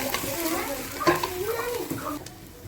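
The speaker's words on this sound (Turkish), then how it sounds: "bunları da soğanla güzel bir şekilde kavuracağım" Onions and tomato paste sizzle and fry in a pan while a spoon stirs, with a voice speaking in Turkish over the steady crackle.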